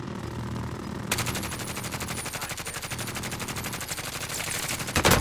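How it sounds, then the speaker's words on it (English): Rapid automatic gunfire in the battle royale video game Warzone, a dense steady burst of shots that starts after a second of quieter game ambience and runs continuously to the end, loud and close. "What the fuck are you shooting at, Cody?"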